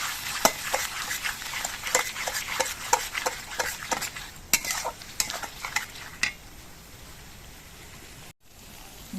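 Spoon stirring a spice mix with Kashmiri chili in a hot pan for a Bengali doi katla fish curry, with irregular scraping clinks and a soft sizzle, close and steady, no talking.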